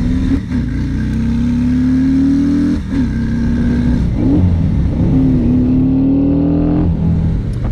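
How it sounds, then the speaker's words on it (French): A deep, loud Harley-Davidson Low Rider S 114 V-twin engine idles and revs steadily, its rumbling pitch rising gradually with a few brief dips and throttle blips. "avec ce moteur 114, bah écoute, tiens, je te laisse écouter un petit peu son son"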